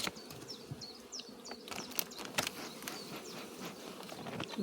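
Honeybees buzz steadily around an opened hive being worked with smoke, a continuous close insect hum with scattered soft knocks and rustles, no voices.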